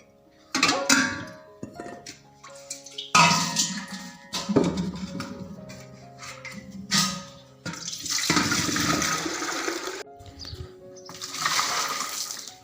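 Water splashes and pours into containers outdoors, with bursts of filling, gushing and sloshing interrupted by clattering vessels and short pauses.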